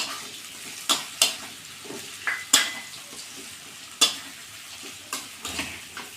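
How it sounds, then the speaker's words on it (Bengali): Hilsa fish frying in a pan after spices have been cooked down, a quiet sizzle punctuated by several sharp metallic clinks and scrapes of a utensil against the pan. "মশলাটা কষানো হয়ে গেছে এবার ভেজে রাখো মাছগুলো"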